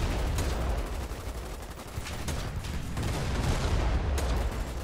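Dense gunfire and explosions at a dock during a naval battle in the Foxhole war game, a continuous loud barrage of rapid shots and booms with no clear pauses.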